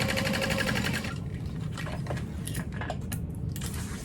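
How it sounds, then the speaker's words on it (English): A sewing machine bastes through the lining fabric of a crossbody bag. It runs in a quick, rapid rattling burst, then slows into scattered stitches and mechanical clicks, close and moderately quiet. "So I'm just gonna baste through that side"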